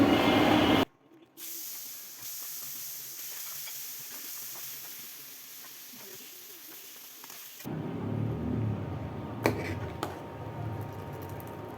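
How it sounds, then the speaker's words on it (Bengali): Bele fish frying in a pan hisses steadily at a moderate level, cut by short gaps of near silence. The sizzle swells louder toward the end, with a few sharp clicks from the pan. "তা আমি বাইলা মাছটা ফ্রাই করে নিচ্ছি"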